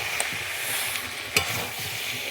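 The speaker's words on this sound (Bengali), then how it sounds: "গরম জল দেবো। ঢেলে দিয়েছি" Hot water is poured into a pan of jackfruit and meat curry with potatoes as it fries, giving a steady, close sizzle and bubbling with a few sharp spatters and stirring knocks.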